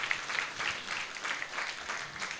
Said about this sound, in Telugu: చప్పట్లు కొట్టండి ఒకసారి దేవుడికి